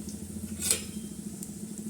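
A besan pancake cooks in oil on a griddle with a soft, steady sizzle close by, and one light metallic scrape of utensil on the pan breaks in partway through.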